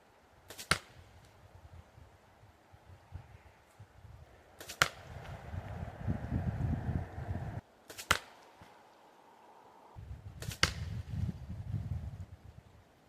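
A Bear Blackout Intrigue X4 compound bow fires arrows outdoors, four sharp snaps spaced a few seconds apart, each followed by a low rumble of gusting wind.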